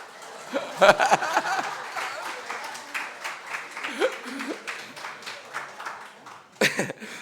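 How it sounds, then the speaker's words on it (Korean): A Korean church congregation at Sunday morning worship claps in welcome, with a rhythmic patter of hands, scattered chuckles and laughter, and a few voices speaking over it. "우리 박수 한번 쳐주시기 바랍니다."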